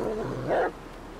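Dog in the video game Die Young giving a short growl or bark, a single brief mid-pitched burst over a low steady game background.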